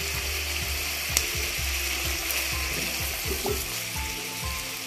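Sliced onion fries with garlic cloves and ginger in a pan under a loud, even sizzle, with a regular run of low clunking stirring strokes and one sharp clink.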